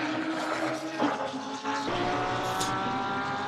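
A Porsche 992 race car in a racing video game roars steadily under continuous engine drone, with other cars' engines mixed in during the Spa six-hour endurance event.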